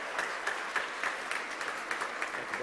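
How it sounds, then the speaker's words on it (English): An audience at a holiday luncheon panel claps steadily and fairly lightly, the individual claps distinct with small peaks and no voices on top. "give him a round of applause."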